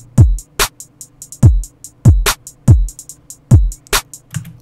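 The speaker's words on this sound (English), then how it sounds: "So then drums together sound like this." A programmed drum beat built in FL Studio for a track: deep punchy kicks, sharp claps and quick ticking hi-hats in a tight repeating pattern, loud, clean and dry with no voice.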